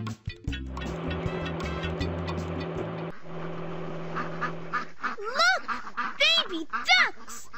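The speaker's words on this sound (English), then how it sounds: "Those baby ducks are blocking the road." Cartoon baby ducks quacking on a road, a series of bright rising quacks near the end after a stretch of vehicle hum and music, close and clear.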